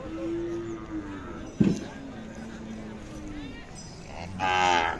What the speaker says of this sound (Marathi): जुनेतली गाय आहे